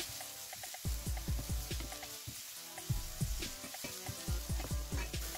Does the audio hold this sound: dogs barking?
no